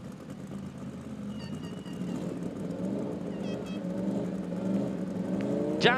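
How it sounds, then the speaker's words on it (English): Ford Mustang doing a burnout on a racetrack, a steady loud engine roar with rising revving harmonics building toward the end, continuous and close, with no talk. "el Mustang por el carril izquierdo haciendo el burnout"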